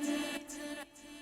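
Brief vocal fill chop dropped into a house track every eight bars, a sustained sung tone with bright upper harmonics that cuts off twice in quick stutters, alone without talking.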